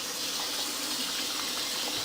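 Water running from a tap into a garbage disposal drain, a steady, even hissing rush at moderate level throughout, with no voices.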